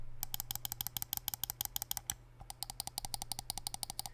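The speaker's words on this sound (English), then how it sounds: "Right and left click. Side buttons," Rapid, crisp clicks from the left, right and side buttons of an EndGame Gear XM1r gaming mouse, fired in two fast, even bursts separated by a short pause and heard up close and faintly.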